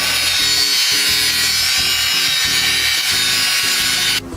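Cheap 7x14 mini-lathe cutting plastic and throwing chips, a steady high whirring motor with a rhythmic low chattering pulse from the cut repeating about twice a second, loud and close, cutting off near the end.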